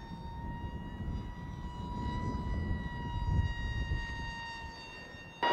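An Esky Eagle 1100mm RC trainer airplane cruising at about 40% throttle, a steady thin electric motor whine with a sustained tonal hum over outdoor wind noise, continuous and fairly even throughout.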